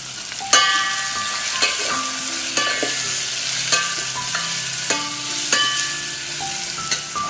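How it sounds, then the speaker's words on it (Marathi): One large finely chopped onion goes into hot oil and fries with a continuous sizzle, while a metal spoon stirs it with repeated ringing clinks and scrapes against the pan. "आता मी याच्यात घालणारे कांदा, 1 मोठ्या साईजचा कांदा मी बारीक चिरून घेतलाय"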